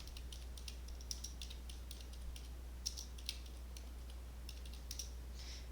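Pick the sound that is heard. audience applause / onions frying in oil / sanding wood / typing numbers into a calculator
typing numbers into a calculator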